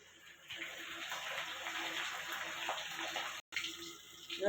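Pomfret and bangda fish fry in hot oil in a kadhai, a steady bright sizzling hiss that starts abruptly, cuts out briefly near the end, then returns louder.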